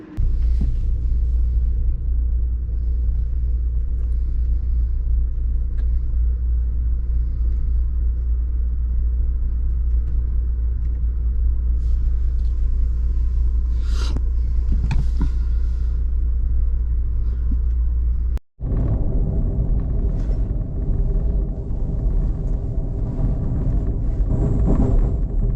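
Deep, continuous rumble and low hum from the Amtrak California Zephyr while riding aboard, with faint rattles and squeaks over the steady drone and a momentary dropout near the end.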